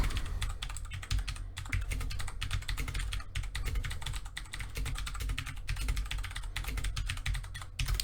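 Rapid continuous typing on a computer keyboard, dense clicking keystrokes close and loud throughout with brief pauses, no talking.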